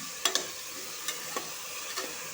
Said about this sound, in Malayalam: 1 മിനിറ്റ് ഇത് എണ്ണയിലിട്ട് ഫ്രൈ ചെയ്തെടുക്കണം.